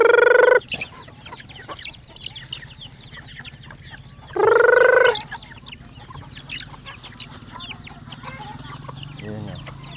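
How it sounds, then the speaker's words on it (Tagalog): Hungry pet chickens at a farm, with two loud, sustained rooster crows near the start and middle over steady clucking and soft farmyard background throughout. "Kasi gutom na gutom yung mga alagang manok nila dito kasi bihira lang sila napunta dito."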